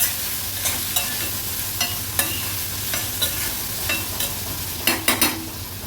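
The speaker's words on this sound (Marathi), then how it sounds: "कांदा व्यवस्थित आपल्याला परतून घ्यायचा आहे तेलामध्ये" Chopped onion sizzles in hot oil with a crushed ginger, garlic and chilli paste as a spoon stirs it, a steady close frying hiss broken by scraping clinks of the spoon against the pan.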